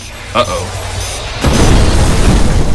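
An explosion sound effect for a detonation in an action-figure review comes in as a loud, sudden boom that rumbles heavily through the second half, after a short voice at the start.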